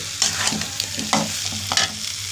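A spice paste sizzles in oil for a potato and green pea curry, stirred with rhythmic scraping strokes of a spatula against the pan, about three distinct sweeps over a constant close hiss.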